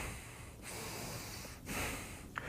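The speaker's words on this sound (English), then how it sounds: "rather than creating a sniffle sound in the nose" Sniffling breaths drawn through the nose, three short snorting inhales separated by soft, hissy breathing.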